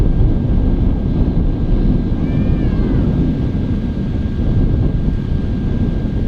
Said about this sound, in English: Sounds like a bizjet. It's like a very, very high-pitched engine sound.